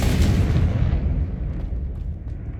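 A Confringo blasting spell in the Hogwarts Legacy video game erupts in a loud, close explosion whose bright crack quickly fades into a low, lingering rumble, with no talking.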